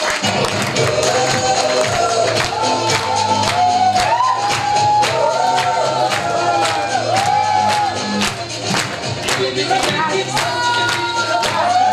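A seminar audience at a leadership development program in India claps hard for an arriving speaker. The loud, sustained clapping runs throughout, mixed with cheers, whoops and shouting from the crowd.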